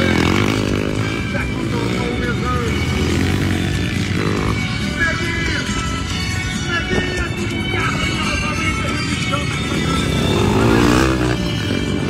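Motocross bikes race on a track in Nova Floresta during a women's national category event, their engines buzzing and revving loudly and continuously as they pass, with an announcer talking over them.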